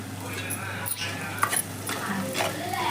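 Onions sauté in a pan for brinjal kulambu with a pinch of rock salt, giving a soft, steady sizzle broken by light scrapes and clinks of stirring, with a voice at times.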